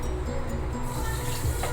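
Water poured into half a cup of sugar in a pan to make syrup, a short steady splashing trickle heard close by with no talking.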